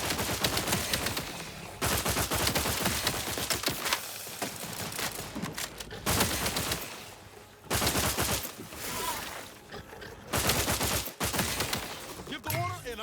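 Rapid bursts of automatic gunfire and blasts in The Outer Worlds 2 crackle in loud clustered volleys separated by short pauses, with faint game voices in between.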